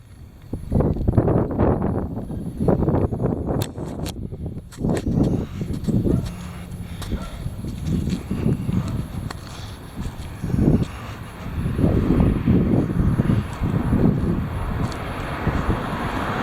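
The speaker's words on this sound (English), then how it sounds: "Here it is. The heavy wind." Heavy wind buffeting outdoors: a low, rumbling roar that surges and fades in uneven gusts for the whole stretch, with no speech.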